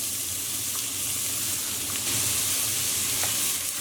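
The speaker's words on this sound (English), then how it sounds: "Now we just want to very lightly saute this until it's nice and golden brown." Onions with three tablespoons of vegetable oil sauté in a pot over medium heat, a continuous soft hiss and crackle of frying that rises slightly partway through, heard alone without talk.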